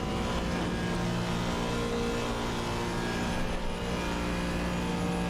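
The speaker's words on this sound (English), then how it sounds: "the 5-cylinder sounds super good, especially if you get, you know, a better exhaust" Volvo five-cylinder car engine in a driving simulator game, running flat out along a straight with a loud, sustained, even drone and no voices.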